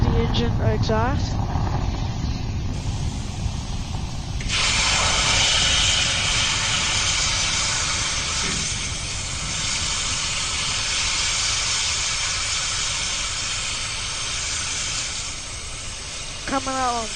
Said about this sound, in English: There's the engine exhaust.